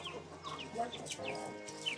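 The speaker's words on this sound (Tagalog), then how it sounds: "Dahil nakita ko yung may mga manok siya." Chickens kept by a backyard owner cluck in a few soft, separate calls, fairly faint and close, with light background noise and no talk.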